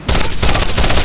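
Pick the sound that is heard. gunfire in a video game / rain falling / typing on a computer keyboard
gunfire in a video game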